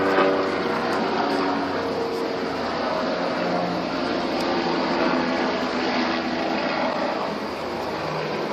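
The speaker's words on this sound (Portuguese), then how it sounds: "Um avião." An airplane flies overhead, a steady broad drone holding at an even level for several seconds with no other sounds.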